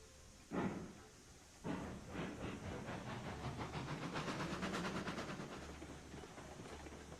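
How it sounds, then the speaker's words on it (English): Coal-fired steam locomotive in the game Railroads Online pulling away, with two sharp steam bursts followed by quickening rhythmic chuffs that build into a steady close puffing. "We've got a coal-fired locomotive"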